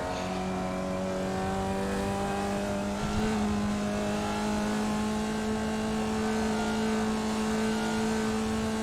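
A Formula Vee race car engine in the iRacing sim racing game at Summit Point Raceway drones steadily, with a quick upshift partway through before the engine tone settles again, continuous and close.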